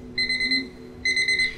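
Two short bursts of a bright, beeping electronic alarm sound as a timer runs out in World of Tanks, each lasting under a second with a brief pause between them. No voices are heard.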